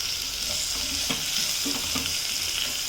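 Tomatoes frying and being stirred in a pan while making rasam: a steady sizzle runs throughout, broken by a few sharp scraping stirs of a spoon against the pan, close and moderately loud.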